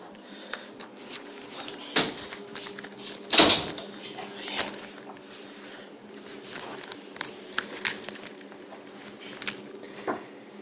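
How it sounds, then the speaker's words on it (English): A door is pushed shut at a family birthday gathering, with a couple of dull thuds and knocks against a low room murmur and scattered background voices. "Close the door. Close the door."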